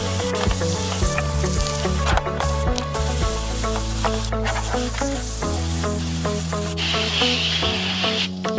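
Pressurised water spray rinsing a dirty RC car: a loud, continuous hiss over a droning motor hum whose pitch shifts a few times, with the spray changing character briefly near the end.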